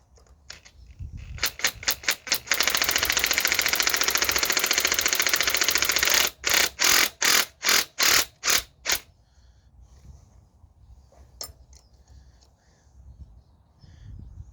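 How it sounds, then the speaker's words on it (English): An impact wrench drives a socket on a part of a 2024 Honda CRF450 being converted to supermoto: short bursts, then a long continuous hammering rattle, then several separate bursts before quiet with faint clicks, loud and close. "I'm gonna use a socket on an impact, which will probably grenade my tool."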